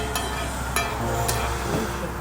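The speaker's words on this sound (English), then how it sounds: "When the first pies finally went into the frying pan" Filipino empanada pies frying in a pan at a bakery, a steady close hiss of hot oil with a few sharp clicks and pops scattered through it.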